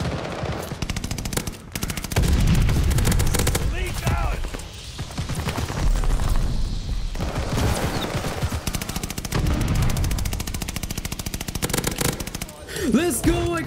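Rapid automatic gunfire from Call of Duty: Vanguard rattles in dense, sustained bursts through most of the stretch, loud and close, with only brief lulls between volleys.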